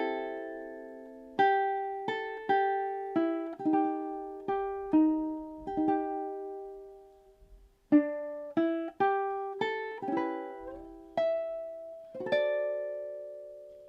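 Ukulele plays measures five through eight of a song alone and close, with bright strummed chords struck in an even rhythm and a couple of longer ringing chords between.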